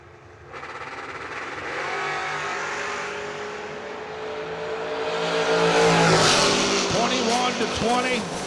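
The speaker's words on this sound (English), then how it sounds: "Wow, what a drag race." Drag race cars in an S10 class battle roar and build in pitch as they launch and accelerate down the strip, loud and sustained, with an announcer calling over the engines.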